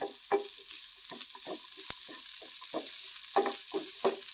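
Chickpeas and grated coconut in a pan for sundal, with soft sizzling and a series of scraping stirs spaced irregularly, close and moderately quiet.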